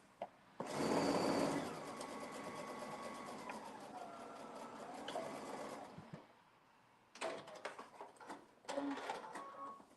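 A sewing machine stitches fabric for a draped top, running in a long continuous whir, then pausing briefly before short bursts of stitching resume, with no talking.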